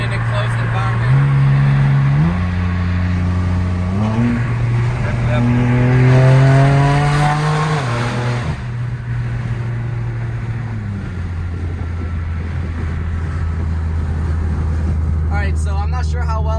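A straight-piped BMW M3 exhaust pulls hard beneath an underpass, its loud engine note rising through several gear changes and echoing off the enclosed concrete before settling into a steady drone.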